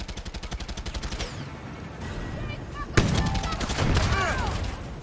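Rapid bursts of gunfire rattle in quick rhythmic volleys, then a sharp loud shot rings out, followed by more crackling fire and ringing echoes, in the video game Far Cry 6 on PS5.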